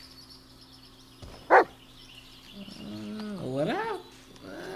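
A dog barks once, sharp and close, in the Blair Witch video game, then whines and yips softly while someone talks over it.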